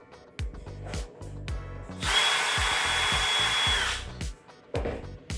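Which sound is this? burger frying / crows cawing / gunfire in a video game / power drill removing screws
power drill removing screws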